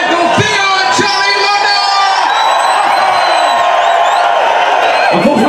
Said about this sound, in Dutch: geef zo'n grote applaus